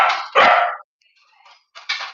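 Dogs bark in two bursts, a loud pair early on, then a short gap with faint yips before two more barks close by.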